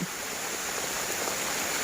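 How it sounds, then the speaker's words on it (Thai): Rain falls outdoors on an evening at a rice-field farm, a dense, even hiss of close, steady downpour with no voices over it. "ฝนตกนะครับนี่ผมถ่ายตากฝนเลยนะครับ"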